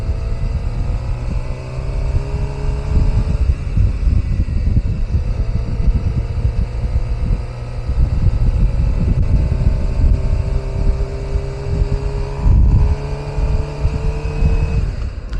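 A Suzuki GSX-R motorcycle riding in first gear, its engine rising and falling in pitch through shifting revs, with heavy wind buffeting the microphone throughout.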